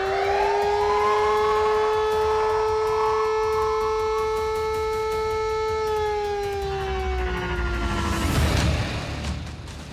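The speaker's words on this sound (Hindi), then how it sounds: "खतरे के सायरन बजने लगे।" Air raid warning sirens wail in Kuwait during a missile and drone attack, a loud sustained rising-and-falling civil defense tone holding steady for several seconds before sliding down and fading into a burst of rumbling noise.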